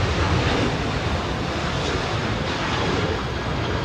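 A jet airliner roars steadily down Sydney Airport's runway 16 right on its takeoff run, loud, close and continuous, a broad engine rumble with no voices.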